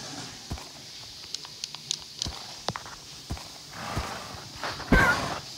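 A baby horse walking in a Minecraft-style survival video game, its hooves giving soft, irregular clip-clop taps across the clip, with a slightly louder scuffle near the end and no talk.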